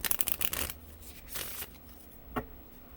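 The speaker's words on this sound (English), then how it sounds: "let's pull some oracle cards for you guys" Oracle cards shuffled in a brisk riffling burst, then a slower second pass and a single sharp snap near the end, close and with no voices.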